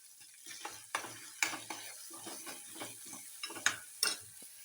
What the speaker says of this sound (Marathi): चांगलं भाजू द्यायचं हे आपलं तेलामध्ये